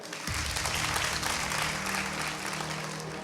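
An audience at a magic and ventriloquism show at a Thrissur camp breaks into a steady round of clapping, a thick wash of many hands that holds evenly to the end.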